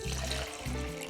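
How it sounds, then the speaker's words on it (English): Water pours into a regular shaker bottle in a short, close trickle of about a second, broken by a brief pause in the middle. "We pour a little bit, and I'm using just a regular shaker."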